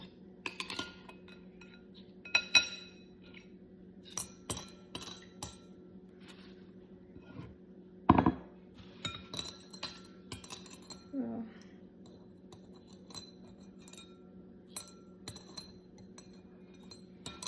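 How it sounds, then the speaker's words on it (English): Pennies drop into a glass of water, making scattered light clinks and taps against the glass, mostly faint, with one sharper, louder clink midway, over quiet background. "Let me go ahead and drop these pennies into the water for rinsing."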